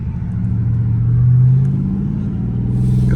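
Dodge Scat Pack car in sport mode, its engine rumbling steadily and swelling into a brief rev midway before settling back to a loud, close idle-like drone with no talking.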